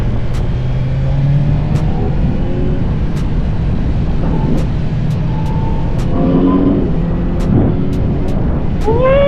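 A Kawasaki Z900 sport motorcycle engine roars steadily and close, with rising and falling revs and sharp gear-shift blips, under continuous wind noise.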